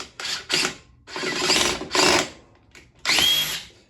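DeWalt DCF870 hydraulic impact driver driving small screws, a series of four to five close bursts of whirring hammering, each lasting a fraction of a second to half a second, separated by short pauses.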